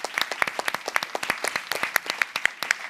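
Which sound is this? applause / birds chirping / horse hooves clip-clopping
applause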